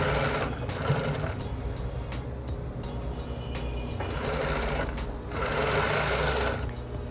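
Sewing machine stitching fabric for a wallet made from recycled cloth, a steady mechanical whir running in bursts with short pauses between passes, close and fairly loud.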